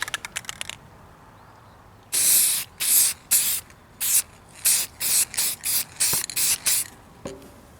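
A spray can lays a second coat of paint on a go-kart frame in a series of loud, short hissing bursts, about a dozen in quick rhythm, preceded by the rattling shake of the can.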